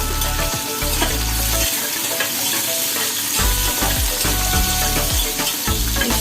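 Prawns frying in a hot pan during a bitter-gourd curry preparation, a loud continuous sizzle broken by repeated stirring scrapes and bumps, close and steady with no talking.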